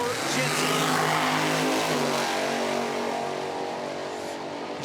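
A drag race at Milan pitting a blown 604 big block dragster against a Malibu: a sustained, loud, ragged engine roar that fades slightly toward the end, with an announcer talking over it.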